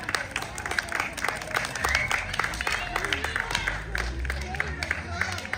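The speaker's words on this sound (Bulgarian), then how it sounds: "Аплодисменти за Дария!" An audience at a children's celebration applauds a child singer with a stream of sharp, quick claps. Voices and crowd chatter run underneath the clapping the whole time.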